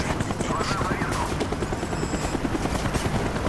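A helicopter flies overhead in Call of Duty: Black Ops, its rotor chopping in a steady, loud pulsing thump throughout, with voices in the background.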